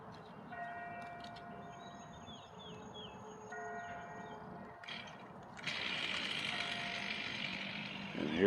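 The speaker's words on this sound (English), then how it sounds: "you hear the chimes right there. That means it's on the hour." Church bell chimes ring out on the hour at 11 a.m. in Loganville, several distant tones sounding in sequence over outdoor hum before a louder rushing noise takes over near the end.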